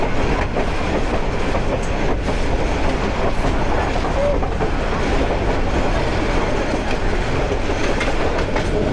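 A Balaka commuter train of Bangladesh Railway rumbles steadily along the rails, loud and close, with a continuous clattering roar of wheels and carriages that never lets up.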